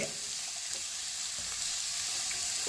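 Chopped onions sizzle in hot oil for a tempering, a steady, close, continuous frying hiss with no talk.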